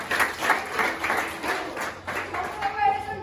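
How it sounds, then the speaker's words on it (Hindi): Audience applause and clapping at a motivational speech event, steady claps running the full length with a voice and crowd murmur mixed in. "चलो सबके लिए जोरदार तालियां।"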